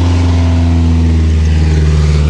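A Lada Niva car engine labours on sand dunes, a loud steady low drone with strong harmonics, heavy and strained, close and continuous without talk.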